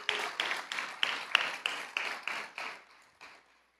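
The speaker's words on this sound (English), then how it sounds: "let's give them a round of applause again" An audience at a service dog class graduation applauds the puppy raisers: steady, evenly spaced claps ring out close and clear, then thin out and fade to silence.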